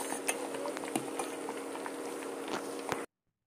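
Homemade baby massage oil simmering in a pan over a low flame, a steady close bubbling hiss with scattered soft pops and crackles, ending abruptly in silence.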